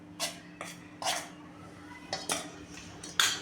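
Gram flour batter for kothimbir vadi being mixed in a bowl with a spoon: several separate clinks and scraping strokes against the bowl, close and soft, spaced irregularly over a quiet background.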